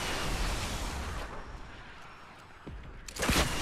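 Rocket launcher blasts in Fortnite boom and rumble loudly, with a sustained roar of gunfire and explosions that eases off, followed by a couple of sharp cracks and a heavy burst near the end.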